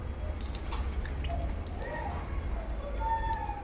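Water trickles and drips from washed arms during wudu, a faint steady patter over a low background hum, with no voices.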